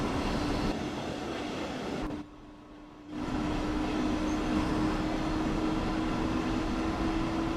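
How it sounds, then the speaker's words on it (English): A train on the Hamburg–Lübeck main line in Train Sim World 2 rumbles loudly and continuously, broadband roar with a steady hum, briefly dropping out for about a second before resuming. "loud train"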